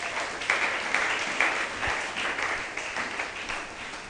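A church congregation applauds during a worship service, a steady wash of many hands clapping in a large reverberant room, with faint voices mixed in.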